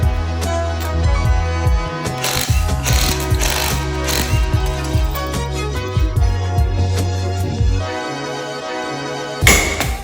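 A bolt is worked on during a big brake kit install, giving a loud run of rapid metallic clicking and rattling bursts with sharp knocks, continuous and close, ending in one louder clatter.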